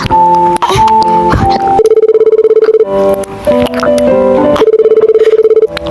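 Outgoing phone call tone: a loud, repeated electronic ringback pattern of steady beeping tones, broken by brief melodic chime-like notes, with no talking.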